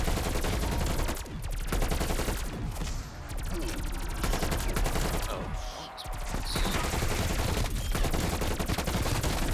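Rapid bursts of Pack-a-Punched gunfire in Call of Duty Cold War Zombies, dense and loud for the whole stretch, with only short pauses between volleys.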